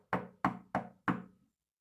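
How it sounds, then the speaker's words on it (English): Four firm knocks on a door, evenly spaced and close, then silence, told as part of a spooky campfire tale. "First, he knocked."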